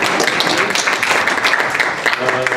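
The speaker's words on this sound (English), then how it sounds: "let's thank our panel with a round of applause" Audience applause for a smart cities panel, a dense burst of clapping at close range that fills the whole short span with no talk over it.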